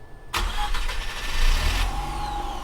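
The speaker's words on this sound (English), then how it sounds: "Go ahead and put the key in and let's see what she does." A Mazda RX8 rotary engine cranks briefly on the key, then catches and runs at a rough idle, loud and close, with no talking.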